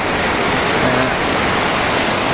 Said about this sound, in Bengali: এই হলো অবস্থা ট্যাপটপ করে বৃষ্টি পড়ে